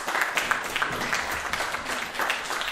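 A theatre audience claps after a performance, an uneven, rippling patter of many hands at moderate loudness, with a few slightly louder swells throughout.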